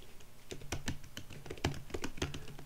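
Keys clatter on a computer keyboard in quick, irregular bursts while a git command is entered, close and fairly quiet with short pauses between strokes.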